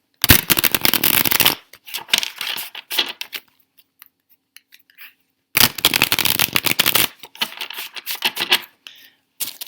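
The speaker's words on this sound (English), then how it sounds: "All right, I'm going to shuffle. Hopefully it won't be too loud." Two bursts of rapid, crisp tarot card shuffling, riffling and slapping close by, separated by a quieter pause with a few soft handling sounds.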